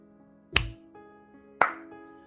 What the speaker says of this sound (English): Slow golf clap, everyone.